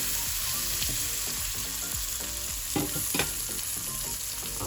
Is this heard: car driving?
no